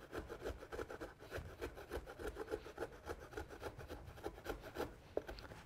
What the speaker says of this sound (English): So you've grated your horseradish and just working quickly because it really does burn the eyes like an onion